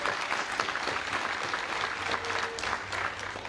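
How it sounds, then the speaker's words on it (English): A round of applause from the audience at an Australia Day awards ceremony in Maryborough, steady dense clapping sustained throughout at moderate distance with no break. "So one more round of applause for Jesse."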